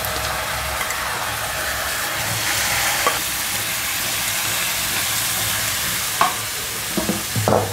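Rice grains frying in a pan for Bengali prawn pulao give off a steady broadband sizzle with scraping stir strokes, a few sharper spoon clicks near the end, and no talking.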